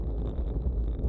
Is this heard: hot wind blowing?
yes